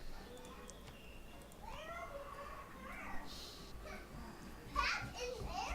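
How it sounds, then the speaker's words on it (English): A domestic cat meows several times in rising and falling wails close by, while children's voices chatter in the background. "Cat in there."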